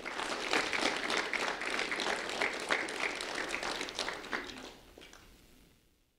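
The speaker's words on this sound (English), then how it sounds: "a round of applause for Keanu" An audience applauds at a school recognition event, a dense burst of clapping that carries for several seconds before thinning and fading out to quiet.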